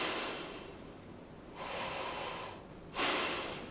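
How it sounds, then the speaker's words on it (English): Deep diaphragmatic breaths during a breathing exercise: a long, airy exhale, then a slow inhale, then another rush of breath starting sharply, close and fairly loud with no talking. "You're doing deep diaphragmatic breathing down here"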